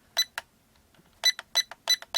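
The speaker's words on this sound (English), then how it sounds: "So it just gives me a double beep down and a single beep up." A Syma X5C-1 quadcopter remote controller gives short, bright electronic beeps: a pair, then a pause, then a quick run of five more, all clear and close with no talking over them.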